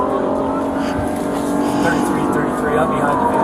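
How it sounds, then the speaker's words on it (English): A used police car's engine roars steadily during a chase in Minnesota, a continuous near drone that holds under an officer's talk for the whole stretch. "That sound you're hearing is why you never buy a used police car."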